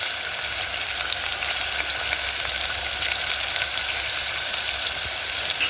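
Garlic frying in a pan gives a steady, even sizzle. It is moderately loud and continuous throughout, with no talking over it.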